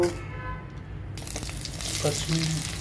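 Mustard seeds and cumin sizzle and fry in hot oil in a pan, a steady crackling hiss that swells after a quieter start, close and fairly loud.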